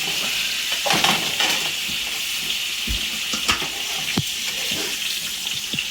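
Steak sizzles in a pan with a steady, hissy crackle, punctuated by occasional louder pops and scraping clinks, close and moderately loud with no talking.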